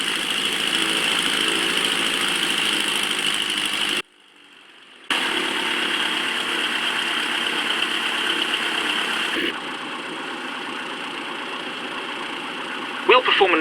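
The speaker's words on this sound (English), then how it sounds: "I'll taxi us up to the runway." Engine of a Piper light aircraft taxiing to a runway at Waltham Flying Club, a steady droning hum held at an even level, with one brief drop-out partway through and a slight change in tone later.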